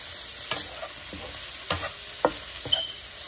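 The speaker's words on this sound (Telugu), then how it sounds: "శుభ్రంగా ఒక్కసారి కొంచెం వేగితే చాలు, ఎక్కువ వేగకూడదు." Paneer pieces frying lightly in masala in a pan, with a soft continuous sizzle broken by four sharp spatula scrapes and taps at a slow, irregular pace, close by.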